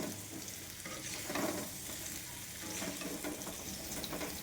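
Aloo dum, a potato curry, sizzles and fries in a pan with steady crackling and occasional stirring, a continuous close hiss that stays fairly quiet throughout.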